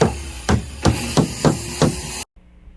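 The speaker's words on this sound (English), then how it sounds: "Here I'm just nailing 2 pieces of 2x8 onto the wall" A hammer drives 1.5-inch brick nails into 2x8 boards against a wall, sounding as six sharp, evenly spaced blows about half a second apart, close and loud, before an abrupt cut to quiet.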